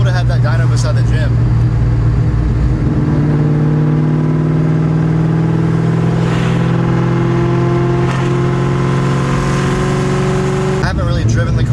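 A supercharged V8 car engine with a Whipple supercharger idles loudly with a deep lumpy rumble on a cold start, then climbs in pitch as it revs up and holds before dropping back.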